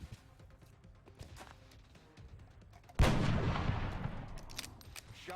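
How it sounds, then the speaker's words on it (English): A single sharp gunshot in the turn-based video game XCOM: Long War, a loud blast midway that rings out into a long decaying rumble, preceded by quieter game ambience. "Peters takes the first shot."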